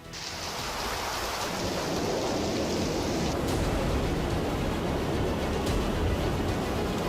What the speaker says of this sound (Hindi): ग्वांशी प्रांत के क्विंझाऊ शहर में 8 घंटे में 273 मिलीमीटर बारिश दर्ज की गई।